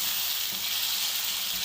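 Finely chopped green chilies fry with onions in a pan, giving a steady, even sizzle that holds throughout at moderate loudness with no voices.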